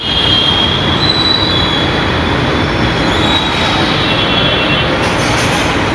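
A train rumbles along steadily at Vadodara station with high metallic wheel squeals ringing over the noise, heard close by and without speech.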